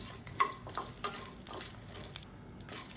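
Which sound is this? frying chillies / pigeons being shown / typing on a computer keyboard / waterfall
frying chillies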